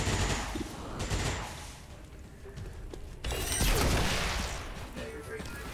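A soldier firing a weapon in the turn-based tactics game XCOM 2, a couple of loud bursts of gunfire with crashing impacts, the second burst longer, under a game soundtrack.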